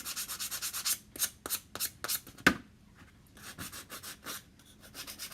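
Sandpaper rubbed by hand over a wooden ladder display piece makes quick, rhythmic rasping strokes, close and fairly quiet, then slows into a few scattered scrapes.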